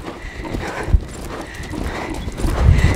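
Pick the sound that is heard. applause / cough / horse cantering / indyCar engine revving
horse cantering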